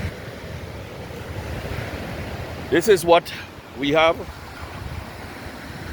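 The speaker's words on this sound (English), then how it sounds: "enjoy the sound of the waves tonight" Ocean waves wash steadily onto the beach at Blanchisseuse at night during an overnight camp, a constant close surf hiss with wind rumble on the mic, while a person speaks briefly over it.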